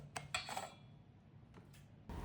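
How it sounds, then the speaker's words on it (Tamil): Brown and white sugar mixed in a bowl, with a few quiet, close clinks and scrapes of a spoon against the bowl in short bursts, then a brief rustle. "இதுவே போட்டு நல்லா மிக்ஸ் பண்ணிக்கோங்க"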